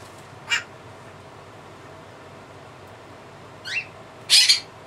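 Blue-crowned conure parrot giving loud, harsh screeching calls: one short call near the start, then two more toward the end, the last the loudest and longest, against a quiet room.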